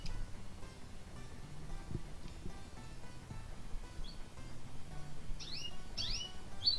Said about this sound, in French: C'est marrant, les oiseaux réagissent au bruit de la télé.